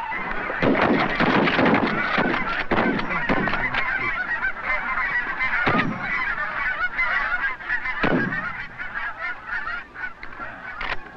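Geese honk repeatedly and loudly during a goose hunt, a flock calling close by in overlapping, irregular bursts that continue throughout.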